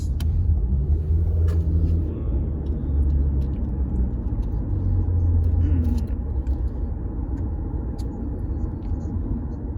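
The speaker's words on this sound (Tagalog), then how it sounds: "We are on the truck." A truck engine rumbles steadily while driving on a road during a trip to go fishing, with loud continuous low road and motor noise and faint voices now and then.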